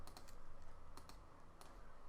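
Quick keystrokes on a computer keyboard during cartoon ball-bounce animation work, a few faint, sharp clicks spaced irregularly over quiet room noise.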